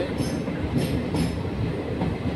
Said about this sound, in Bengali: এখন এই ট্রেন যাচ্ছে আমাদের কলকাতা শিয়ালদা।